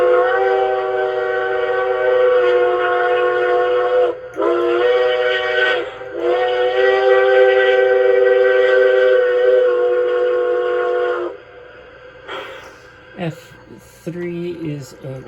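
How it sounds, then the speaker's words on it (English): An LGB 2019S model locomotive fitted with a Zimo MS950 sound decoder plays its highway crossing whistle, a loud steam-style chime pattern of long and short blasts, followed by quieter mechanical sounds and some talking. "F2 is the highway crossing whistle."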